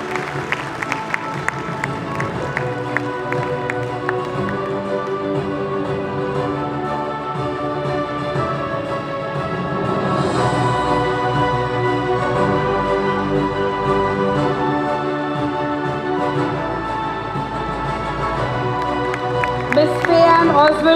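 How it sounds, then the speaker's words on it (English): A school award ceremony audience at Auxilium Convent, Pali Hill, Bandra claps steadily for about twenty seconds, a dense, sustained round of applause mixed with crowd murmur and swelling slightly midway. "parents, please give them a round of applause"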